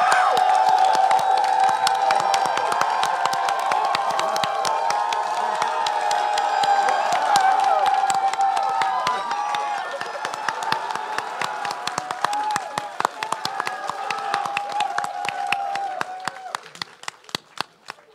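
A large convention crowd, on its feet, cheers, screams and claps loudly and steadily for many seconds. The roar slowly thins into scattered applause and whoops near the end.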